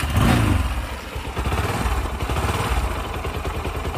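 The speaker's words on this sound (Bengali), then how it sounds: "এটা ফ্রি অ্যাক্সেলেটারের ইঞ্জিনের সাউন্ড, ফ্রি অ্যাক্সেলেটারের স্যালেন্সারের" A Bajaj Pulsar NS 160 ABS motorcycle, a 2021 model, idles with a steady, close, throbbing engine and exhaust note that holds even throughout, with no voices over it.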